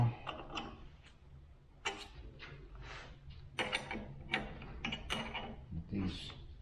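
Bolts on a New Idea Vari Speed machine being tightened with a hand ratchet, giving bursts of quick metallic clicking that come and go in short runs, close by, with some faint talk in between.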